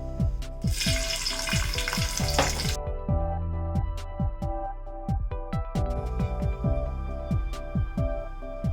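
Cashew nuts fry in hot ghee. A bright burst of sizzling hiss comes early, then fades into quieter spitting, with repeated metallic clinks and scrapes of a utensil against the pan.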